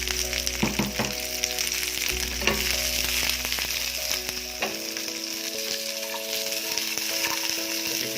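Chili, garlic, candlenut and ginger sizzle steadily in hot oil, close and loud, with scraping and clinking as a utensil stirs them in the pan.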